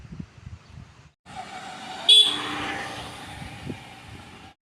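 A vehicle horn honks near a roadside temple on a drive near Malgund, a single short loud blast over steady road and engine rumble.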